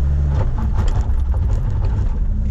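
A 2000 Dodge Viper RT/10 with its V10 engine roars loud and close as it accelerates on a drive, a strong low rumble that climbs in pitch and then holds steady.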